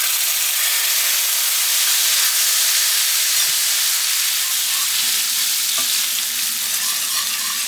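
A spoonful of toffee mixture for oatmeal cream pies sizzles steadily in a hot pan, a continuous loud frying hiss with no talk.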